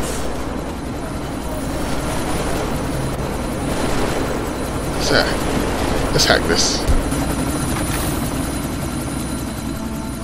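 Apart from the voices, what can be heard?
helicopter in video game Deus Ex Mankind Divided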